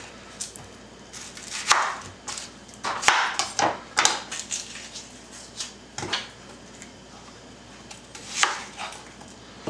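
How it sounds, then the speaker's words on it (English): Knife chopping vegetables for a chicken pot pie, including onion, on a cutting board: a close series of sharp, irregular chops and taps, some in quick bursts with short pauses between, with no talking. "Now I just need to cut up all these vegetables."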